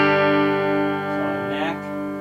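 Electric guitar played with a clean tone through a 1965 Twin Reverb amp with its reverb turned off, sustained ringing notes and chords from bridge and middle humbucker pickups, close and steady.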